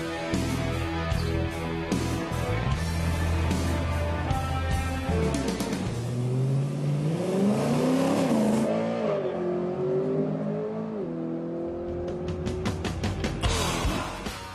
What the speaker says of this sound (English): The M3 GTS is the gutsiest mid-range BMW that you can get your hands on, and the sportiest.